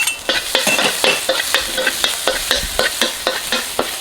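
Minced garlic is stir-fried in oil left over from frying fish, with a loud, rhythmic scrape of a spatula against the pan roughly twice a second over a constant sizzle.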